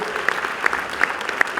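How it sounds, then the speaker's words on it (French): Audience applause at a gala evening for partners of the 8th Jeux de la Francophonie, steady clapping with a few louder bursts over a short stretch, no talking. "Je veux juste entendre des applaudissements pour savoir si vous avez aimé cette soirée"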